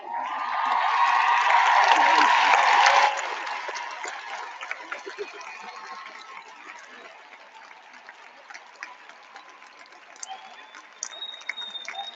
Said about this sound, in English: would you please stand up so let us applaud you